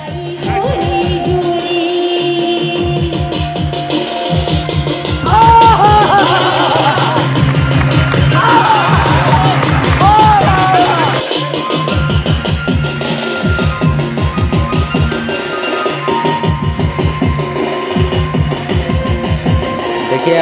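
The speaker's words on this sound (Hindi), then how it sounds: "देखिए कितना भीड़ है" Dense festival crowd noise at a Durga Puja celebration in Seraikela, with a steady wash of many voices mixed with amplified music and rhythmic drumming that stays loud throughout.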